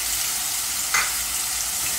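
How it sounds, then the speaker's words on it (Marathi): Spring onion bulbs frying in hot oil for street-style chicken noodles, a continuous bright sizzle at even loudness with one brief stirring scrape in the middle. "थोडी परतायची, तेल टाकलेलं आहे मी आधीच गरम करून घेतलेलं"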